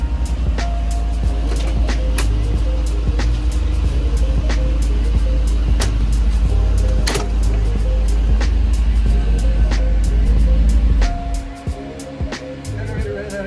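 An RV generator engine runs with a steady, loud, low-pitched hum and rattling knocks nearby, then drops off abruptly near the end, leaving quieter background clatter.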